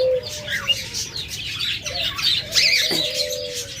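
Two pet birds, a non-ringed breeding pair, give scattered squawks and chirps over a steady background hum, moderately close with no speech.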